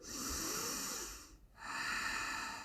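Deep yoga breaths during a plank-focused session: a long, airy inhale, a brief pause, then another steady inhale, close and fairly quiet.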